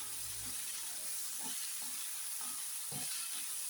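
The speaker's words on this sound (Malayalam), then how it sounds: "തേങ്ങാക്കൊത്ത് നല്ലോണം ഈ കിടന്ന് മൂക്കണം." Coconut pieces fry with onion and potato in a pan, making a constant close hiss with a few soft, regular stirring scrapes and no voices.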